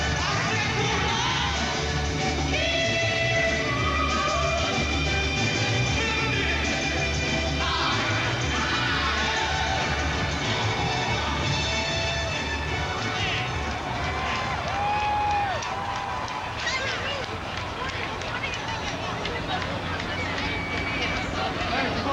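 A large crowd awaits President-elect Barack Obama's arrival on stage, a dense, continuous roar of hubbub and scattered cheering that holds steady and loud over the whole stretch, with voices mixed in.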